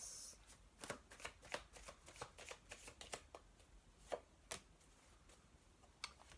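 Love oracle cards being shuffled by hand, a quiet run of close, irregular riffling flicks and soft taps with no voices.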